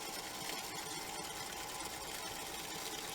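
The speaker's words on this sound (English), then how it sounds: "Listen to that sewing machine." An old sewing machine runs continuously with a dense, steady mechanical whir and rattle, close and unbroken.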